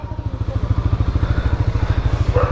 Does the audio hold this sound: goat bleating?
no